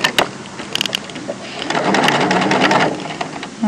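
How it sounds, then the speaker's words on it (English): A sewing machine stitches a bodice yoke shoulder seam, starting with a few short bursts and clicks, then running steadily for over a second before stopping, close and clear with no talk over it. "So you're going to pin that shoulder seam and sew on that seam line"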